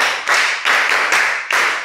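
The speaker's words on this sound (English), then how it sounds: "Let's clap for Priscilla" A classroom of students claps for a classmate during a science lesson, a short burst of applause in four or five quick rippling waves, close and loud, with no talking.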